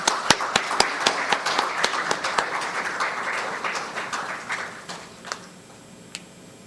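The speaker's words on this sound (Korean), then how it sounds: "박수" A short round of applause, crisp claps that thin out and fade within a few seconds.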